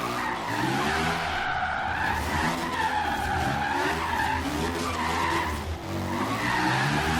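Tyres of a Reliant Supervan skidding in Forza Horizon 3, a loud, continuous screech wavering in pitch for several seconds over a droning engine.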